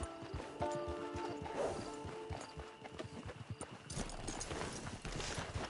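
Horse hooves clop along at a quick pace in Red Dead Redemption, a steady rhythmic beat of fairly close hoofbeats over a faint background with a brief whinny-like tone partway through.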